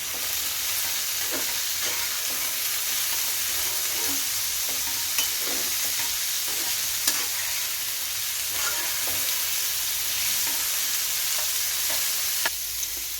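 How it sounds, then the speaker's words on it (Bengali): Steady sizzling of carrots, potatoes and green peas stir-frying in a pan, with scattered scraping and stirring taps throughout, close and continuous, no talking. "এবার এটাকে আমি ভালো করে নাড়াচাড়া করে ভাজা করে নিচ্ছি"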